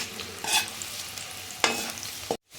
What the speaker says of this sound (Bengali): এখন আদা রসুনটা তেলের মধ্যে একটু ভেজে নিচ্ছি।